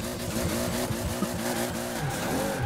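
Car tires skidding and squealing in a racing video game after the handbrake is pulled, a continuous wavering screech over a droning engine, loud and close.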